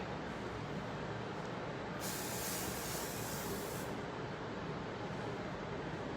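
Hairspray hisses in one continuous, close, loud burst during a hairstyling demonstration, a steady airy spray lasting several seconds with no talk over it.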